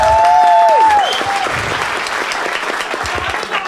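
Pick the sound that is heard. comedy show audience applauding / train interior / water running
comedy show audience applauding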